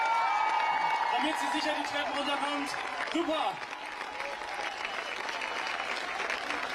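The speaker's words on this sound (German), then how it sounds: "Einen großen Applaus auch nochmal von euch." A crowd at a Fridays for Future climate demo in Berlin applauds and cheers in a sustained dense wash of clapping, while a speaker talks over a microphone on top of it.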